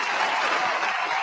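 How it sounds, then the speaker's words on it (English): Audience applause fills a live music venue, steady dense clapping held at an even level throughout without any break. "Clap it up for that."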